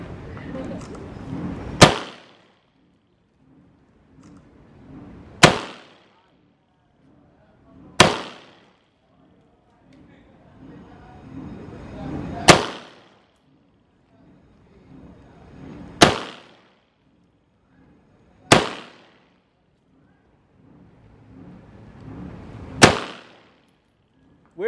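Seven sharp, loud gunshots from an Armscor RIA 22TCM 1911 pistol at a range in Manila, Philippines, spaced evenly a few seconds apart, each cracking out and decaying quickly over a quieter background between shots.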